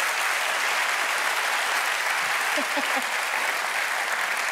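Continuous applause from a studio audience at a TV invention show, dense and even throughout, with a few faint voices briefly audible beneath the clapping.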